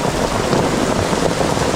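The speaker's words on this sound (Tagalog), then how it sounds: "Yan, ang lakas ng ulan." Heavy rain pours steadily during a downpour, a dense, loud, unbroken hiss of water across the whole clip with no pauses or distinct drops, heard up close.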